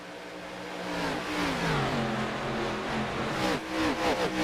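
ARCA stock race cars roar past on a Pocono oval, several engines overlapping with rising and falling pitch sweeps as they accelerate into the turn, loud and continuous with no talking.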